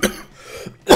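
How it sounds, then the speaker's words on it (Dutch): A person coughs during Super Mario Bros. Wonder gameplay: a sharp close cough, a short quieter stretch, then a second stronger cough with some throat clearing. "Sorry voor de hoest."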